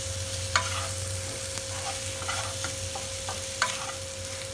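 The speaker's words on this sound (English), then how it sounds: "Mix it very gently" A spoon gently mixing aloo chaat of potatoes with chopped coriander leaves and lemon juice in a bowl, with soft irregular scraping and stirring taps over a steady background hum, with no talking.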